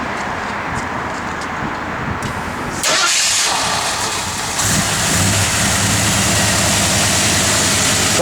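A 1977 Ford Bronco engine cranks and catches, rising abruptly from a low rumble into a loud, steady idle, then settles into a fuller running note close by.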